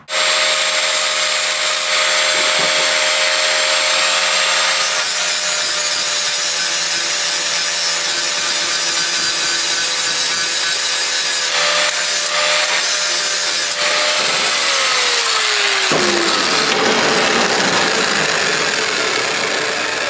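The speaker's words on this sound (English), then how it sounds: "Do some grinding, and it shall fit like a glove." A grinder works the metal side of a box to make it fit, with paint burning off. The harsh grinding is loud and continuous throughout, with shifts in pitch as it bites and eases off near the end.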